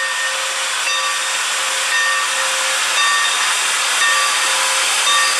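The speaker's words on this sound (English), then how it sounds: "the engineer skillfully unleashes the steam power from inside the boiler." A steam locomotive releases a loud, steady hiss of escaping steam that fills the whole stretch, broad and unbroken, with faint whistle-like tones riding on top.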